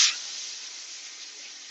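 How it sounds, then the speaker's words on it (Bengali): Potatoes for a Bengali mutton curry drop into hot oil with a loud initial burst, then settle into a steady, close sizzle for a couple of seconds. "গরম হয়ে গেছে, এখন আলু ভেজে নেব।"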